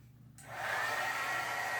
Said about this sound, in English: Heat tool back on.